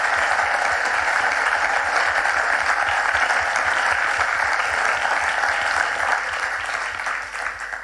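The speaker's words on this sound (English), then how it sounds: "So let's give them a big round of applause." Audience applause at an international award foundation event, steady dense clapping filling the whole stretch and tapering slightly toward the end, with no voices over it.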